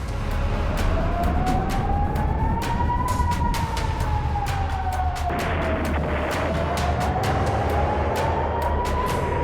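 A loud, steady warning siren slowly rises and falls in pitch, used as a sound effect opening a news report about war, continuous across the clip with faint sharp clicks over a low rumble and no talk.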